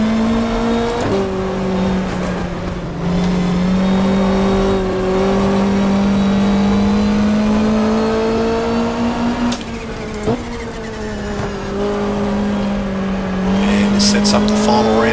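Super touring race cars in the GTR2 racing game, at Winton, drone loudly and steadily from close by, with engine pitch rising and dropping through gear changes and corners, continuous for the whole stretch.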